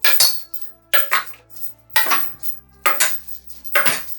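Hard objects striking the wood of a cheap guitar to distress its sanded finish, five sharp knocks with a bright metallic ring, spaced about a second apart, close and loud with quiet gaps between.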